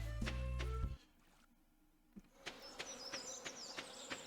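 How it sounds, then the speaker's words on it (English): Buzzing bees in Stardew Valley, a soft steady insect drone with faint clicks, following a brief louder sound at the start. "Bees."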